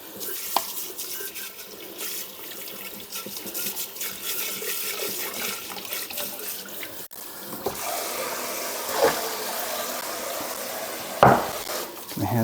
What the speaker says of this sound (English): let's give this pot a nice good spritz out while we're at it